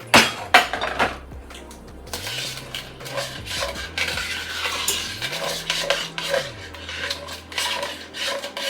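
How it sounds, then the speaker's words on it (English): A utensil scrapes and stirs along the bottom of a pot of oven slow-cooked beef stew, loosening browned bits into the liquid: continuous close, gritty rasping and metallic scraping in steady strokes, with occasional clinks against the pot. "You're just going to gently scrape those bits from the bottom."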